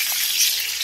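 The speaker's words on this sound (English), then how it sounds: "I'm frying the ribs." Ribs fry in a pan with a steady, bright, close sizzle of hot oil that stays even throughout the short moment, without speech.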